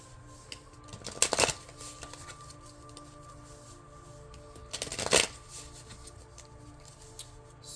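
Two distinct bursts of tarot cards being shuffled, each a quick riffling flutter lasting under a second, close and fairly quiet against a faint background hum.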